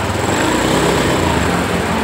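Honda Beat ESP scooter with a check-engine fault, its small engine running in a rough, buzzy sputter at close range that does not rise in revs over two seconds.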